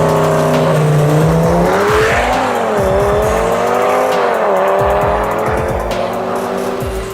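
Turbocharged cars with nitrous launching in a video-game drag race: loud, close engine revving with rising and falling pitch as gears change, sustained roar and tire noise without talk.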